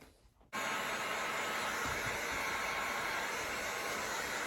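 A hot air heat gun switches on and blows a steady, loud rushing hiss while gently warming vinyl wrap film, still on its backing, over a Hummer H3 grille.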